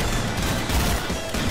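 M40 rifle fire in a shooter game, loud and dense with booming reports layered over heavy ongoing battle noise, with no clear gaps between shots.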